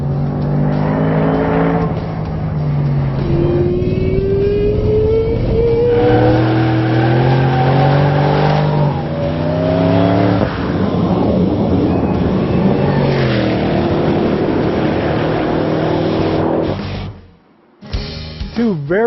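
Powerful Cobra sports car accelerating hard on a road course, engine roaring up through rising revs with gear changes and tire squeal, loud and close, cutting off abruptly near the end.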